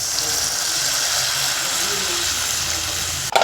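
Water poured onto frying spices for a mrigel fish curry makes a loud, steady sizzling hiss that fills the whole stretch, then ends in a brief clatter of a utensil against the pan.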